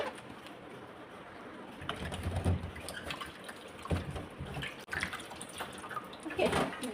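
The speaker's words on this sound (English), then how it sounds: "I'll give them a rinse with this cleaning mineral water" Mineral water runs over potatoes being rinsed before peeling, a steady splashing wash with louder pours and surges, close by and without talk.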